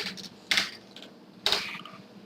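A few distinct keystrokes tap on a computer keyboard, close and fairly quiet, spaced in an uneven rhythm with two sharper clicks standing out over a faint hum.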